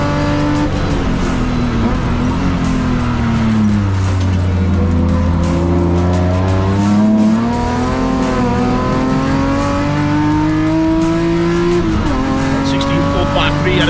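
BMW M Performance Parts race series cars, Class D, racing on a circuit, engines revving loud and rising through gears with shifts and brief tire squeal, while a commentator talks throughout.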